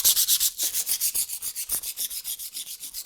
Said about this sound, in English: So I'm just going to get some sandpaper. This is 120 written on here.